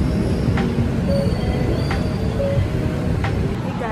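Train at Century Station, a rail platform, heard as steady loud rumbling with faint high squeals and brief tonal beeps throughout, no talking.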